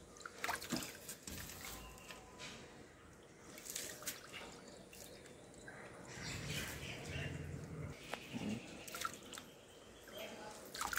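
Broken rice grains being washed by hand in water, with soft dripping, trickling and squishy sloshing sounds repeating close by at a steady, gentle level.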